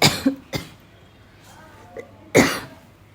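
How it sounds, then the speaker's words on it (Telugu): A person with a cold coughs several times in quick succession, then coughs once more after a short pause, close to the listener, in a small kitchen. "దగ్గు వస్తుంది మాట్లాడుతుంటే"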